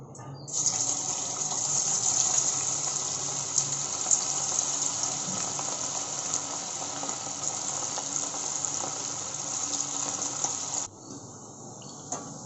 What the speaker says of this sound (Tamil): நம்ம 15 நிமிஷமாக நல்லா ஊற வச்சுருந்த காலிஃப்ளவர் எடுத்து அதில் போட்டுடலாம்.